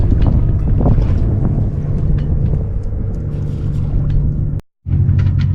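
Steady wind roar buffets the microphone while sailing off Mount Desert Island, Maine, with a low rumble of a sailboat underneath, continuous and fairly loud, briefly dropping out near the end.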